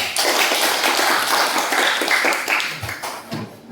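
Classroom applause for a student group that has just finished presenting, a dense patter of many hands clapping steadily for several seconds, close and fairly loud, thinning slightly toward the end.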